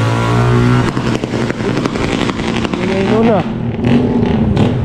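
A motorcycle passes along a Manila street at night, its engine rising loud and close then fading, while someone talks over it.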